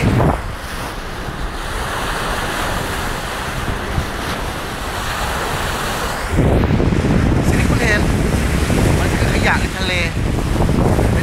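Ocean waves wash along a long open beach under strong wind, a steady roaring surf with gusty microphone buffeting that grows louder midway, close and continuous.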